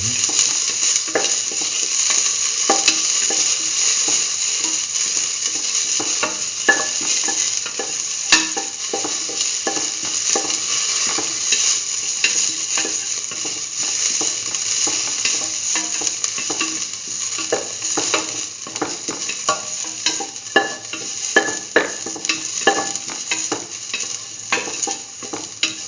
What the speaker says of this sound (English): sauteing.